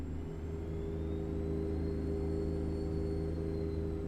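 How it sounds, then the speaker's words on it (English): Freightliner Argosy truck coasting off boost in American Truck Simulator, a steady low engine drone with a thin rising and falling turbo whine above it, constant and close throughout. "It's mostly turbo noise, and that was how my Freightliner was too."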